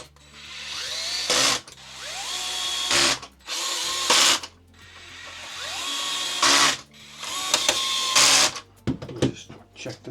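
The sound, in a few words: power tool driving self-tapping screws into a Tamiya Scania model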